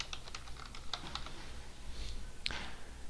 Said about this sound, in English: so I'm going to type in button 2